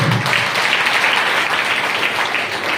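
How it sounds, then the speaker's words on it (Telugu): A church congregation claps during a pastor's sermon, a dense, steady wash of many hands that stays loud and even from start to finish. "చప్పట్లు కొడుతూ"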